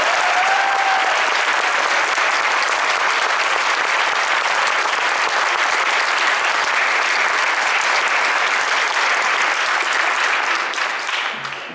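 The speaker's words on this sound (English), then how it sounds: "Let's give this group of students a big round of applause." Dense, sustained audience applause fills a high school band's final concert and awards ceremony, loud and continuous for about eleven seconds before thinning out at the end.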